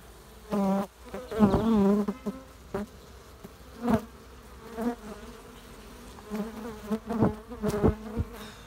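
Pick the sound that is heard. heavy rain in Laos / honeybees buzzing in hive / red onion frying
honeybees buzzing in hive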